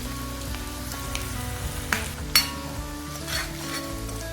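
Curry leaves and a little turmeric frying in hot oil for a cluster beans coconut dish, with a steady close crackling sizzle and a couple of sharp pops and utensil knocks partway through.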